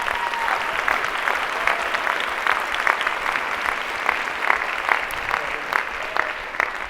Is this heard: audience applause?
yes